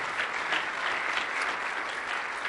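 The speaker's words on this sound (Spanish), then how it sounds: "Dale una alabanza a Él con un aplauso fuerte." A church congregation applauds loudly during a Spanish-language sermon, a dense, steady wash of many hands clapping that runs the whole moment without a break.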